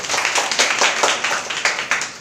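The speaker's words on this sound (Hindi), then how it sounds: "ताली बजाओ जी।" A church congregation claps in unison, a steady rhythm of about four claps per second, bright and fairly loud, with no talking.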